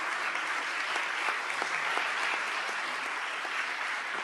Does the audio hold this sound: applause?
yes